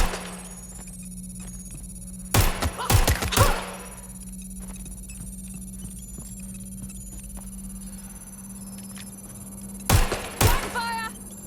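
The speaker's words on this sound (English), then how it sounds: "Hearing gunfire." Sharp gunshot bursts in the video game Watch Dogs: Legion crack out in a quick cluster, then again several seconds later, over a constant electronic hum with scattered clicks.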